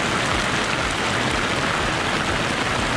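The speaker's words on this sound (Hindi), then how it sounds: "और यहाँ पर हो गई बारिश जोर से स्टार्ट और फंस गए" Heavy rain pours down steadily in Ella, the Sri Lankan hill station, a dense, continuous hiss close by with no break and no voices.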